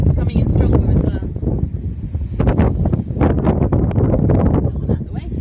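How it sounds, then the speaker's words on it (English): Strong coastal wind at Botallack in Cornwall buffets the microphone in loud, continuous gusts that rise and fall throughout, with no clear voice cutting through the roar. "Which is quite windy. It's coming in stronger as well."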